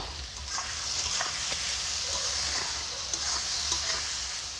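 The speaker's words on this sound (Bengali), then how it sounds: "মাংসটা ভাজা হয়ে গেছে এবারে বরবটিগুলো দিয়ে দিব গাজর দিয়ে দিব ফুলকপি দিয়ে দিব" Chicken pieces frying with green beans, carrot and cauliflower in a home kitchen pan, a steady close sizzle with light stirring scrapes throughout.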